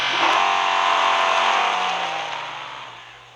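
Engine of a 2013 Audi R8 V10 Coupe in the racing game Real Racing 3: a loud, steady, high-pitched V10 drone that holds for a few seconds, then slowly fades away. No talking.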